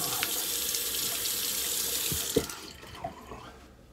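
Water running from a bathroom tap to rinse a razor during a wet shave, a steady hissing stream with a couple of small splashes before it fades out.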